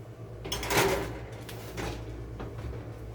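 A kitchen oven door opens and closes as a tray of low-carb biscotti goes in for baking at 325 degrees, giving a close clatter and a dull thud, followed by faint handling noises over a steady low hum.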